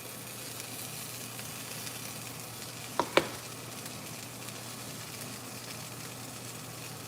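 Garlic bread sizzling in a hot pan, a quiet continuous frying hiss broken by two sharp clicks near the middle.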